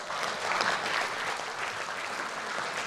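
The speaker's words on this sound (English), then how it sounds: "let's have a round of applause for her again" Audience applause for a presenter at a sales talk, steady dense clapping that fills the whole moment at a fairly distant, even level.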